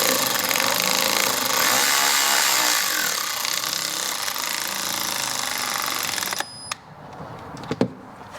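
Power tool, likely an impact driver or drill, whirring steadily while tightening hardware on a Piaggio BV400 scooter engine during a valve-adjustment service, broadband and loud for about six seconds, then stopping and leaving a few clinks and knocks.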